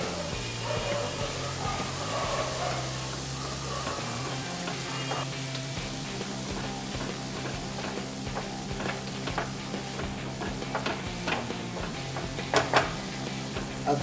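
Ginger garlic paste and vegetables with peas sizzle in a pan, a soft, steady frying hiss with scattered stirring clicks and scrapes under a low background hum.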